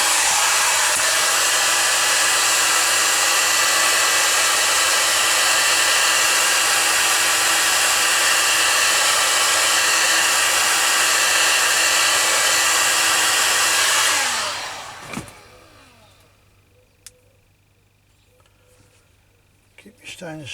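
A hot air blower roars steadily and loudly for about fourteen seconds while warming a slip lead, then cuts off, leaving quiet handling clicks and a faint hum.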